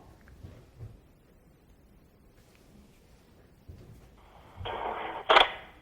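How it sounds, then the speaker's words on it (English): A mobile phone rings or plays near the listener, a sharp bright burst rising at the end after a stretch of quiet room sound. "If you can hear this, this is my phone."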